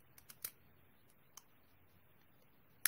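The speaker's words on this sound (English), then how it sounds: "Now I'm going to line up my scissors from this corner to the very tip of where I just cut." Scissors cutting paper, a few soft crisp snips and clicks close by in a quiet room, with a sharper snip at the very end.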